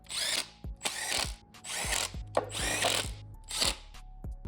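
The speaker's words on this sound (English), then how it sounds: "Pop some bolts in them there, boys, mount them down." A power tool tightens ignition coil bolts on an RB25DET engine during a swap into an A31 Cefiro, giving several short whirring bursts with ratcheting clicks in between, close and fairly quiet.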